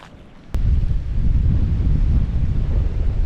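Strong wind buffets the microphone in the wild Australian outback near the coast, a loud low rumbling roar that bursts in after a brief quieter moment and persists unbroken.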